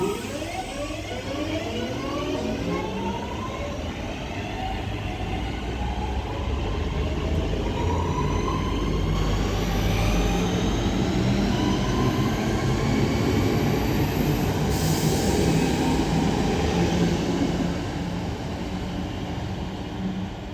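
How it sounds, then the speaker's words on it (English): A delayed Northern service pulling out of Bolton station toward Manchester Airport, a loud continuous engine and rail roar with rising whine as it accelerates, sustained and steady throughout. "Now departing is going to be the delayed 1354 Northern service to Manchester Airport."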